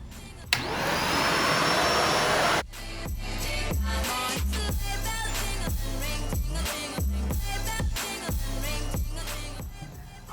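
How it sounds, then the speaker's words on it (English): A vacuum cleaner working over tiled floors in a home, its steady loud drone running alone throughout, with a louder burst at the start before settling into a continuous hum with shifting tone as it moves. "I love this vacuum because I have all tiles and I vacuum every inch of my floors"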